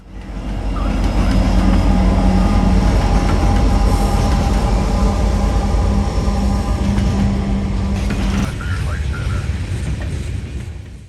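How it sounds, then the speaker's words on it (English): A manifest freight train led by an ET44AH locomotive passes in Ohio, a loud sustained rumble and rattle of railcars with a horn-like tone that cuts off as the train moves on. "it actually is a manifest train, as he had more manifests towards the back of it"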